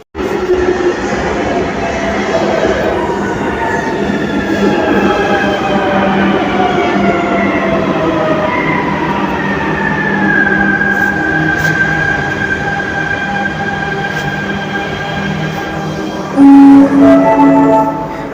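Continuous loud rumble inside a moving metrobus, with a whining motor tone that slowly glides in pitch, then a few short beeps near the end.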